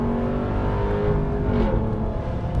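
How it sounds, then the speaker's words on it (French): A RAM 1500 TRX pickup truck's engine revs hard as it accelerates, a loud, sustained close-up roar that holds steady throughout. "on entend ce moteur qui se réveille et qui pousse avec une force mais absolument incroyable"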